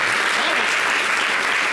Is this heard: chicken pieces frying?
no